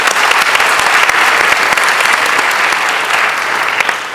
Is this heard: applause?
yes